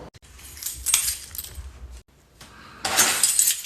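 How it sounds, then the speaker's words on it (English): Keys jangle in two bursts as they are handed over during a comedic family sketch, a bright metallic rattle near the start and a louder, busier jingle near the end, with a quiet gap between. "Hand over your keys."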